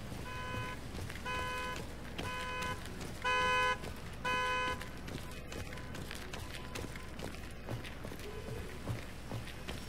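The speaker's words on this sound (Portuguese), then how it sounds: "Barulho chato, hein, de buzina." A car horn in the video game Daymare: 1998 blares in repeated short honks over a steady background of game noise, with scattered footstep-like sounds.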